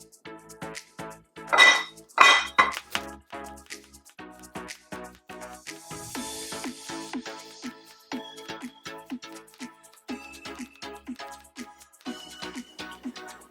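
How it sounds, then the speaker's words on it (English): A knife thinly slicing half a head of cabbage on a cutting board, a rapid run of crisp, close chopping taps in steady rhythm with a few louder clacks early on. "now we're going to slice this very thin"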